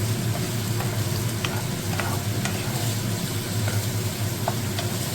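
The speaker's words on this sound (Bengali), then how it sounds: "কয়েক সেকেন্ড নেড়ে নিয়ে এবার এর মধ্যে কুচনো পেঁয়াজ দিয়ে দেবো।" Chopped onion and whole spices (dried chilli, cloves, cinnamon, cardamom and cumin) fry in oil for dhaba-style masala paneer, making a loud, close, steady sizzle broken by short scrapes of stirring, with no voices.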